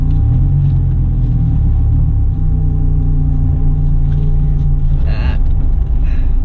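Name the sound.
Dodge Viper SRT TA2.0 engine on race track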